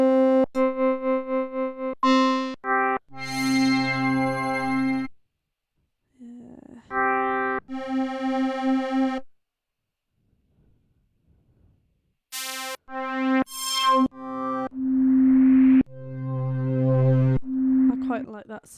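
Muted synth keys played in beat-making software, short damped harmonic notes in loose phrases with gaps of silence between them, clear and close with no talking.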